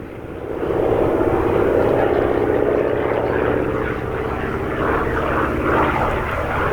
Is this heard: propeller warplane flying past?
yes